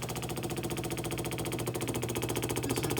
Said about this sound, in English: This is a freshly repaired Harting pump.